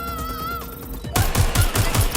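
Bursts of automatic gunfire from the video game Watch Dogs: Legion, a loud, rapid run of shots that starts after a quieter musical stretch.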